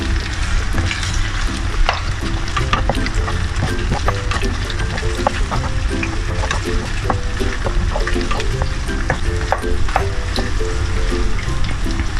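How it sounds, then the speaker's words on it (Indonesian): Fried rice ingredients frying in a pan at home: loud, continuous, dense sizzling with scattered crackles and light stirring clatter throughout, close by and uninterrupted. "Oke, ini kita goreng dulu."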